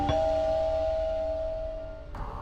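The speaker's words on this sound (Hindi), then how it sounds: "एक डोरबेल की आवाज आई तभी पूछा।" A doorbell rings once with a sustained, steady electronic tone that holds for about two seconds before cutting off, fairly clear over a low background hum.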